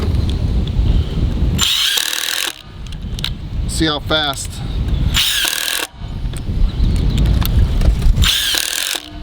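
A Ryobi 18-volt impact driver drives 1.5-inch deck screws in two loud rattling bursts, each lasting about a second, close up, with someone speaking briefly between them.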